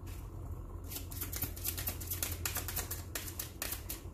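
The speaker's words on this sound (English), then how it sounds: "One more shuffle." Tarot cards being shuffled by hand, a rapid run of crisp riffling flicks and soft slaps close up, with a brief quieter pause before the shuffling starts.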